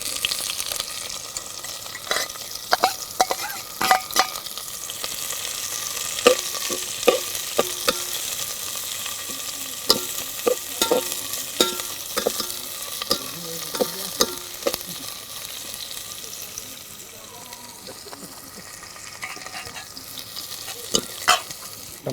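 Onions frying in a pan for a tribal-style dried Bombil fish curry, a steady sizzle with frequent sharp scrapes and clinks of a spoon stirring, close and fairly loud throughout with no talk.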